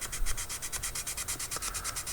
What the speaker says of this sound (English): Just a quick rub of a bit of sandpaper will do that.